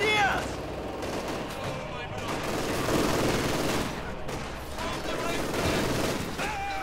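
Rifle and machine-gun fire in a Company of Heroes 2 battle, with rapid overlapping bursts and shots sounding throughout at moderate loudness while a commentator talks over the combat.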